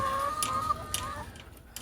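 Hens cluck softly around nest boxes in a small backyard flock during short winter days, a few scattered calls at close range over low background noise.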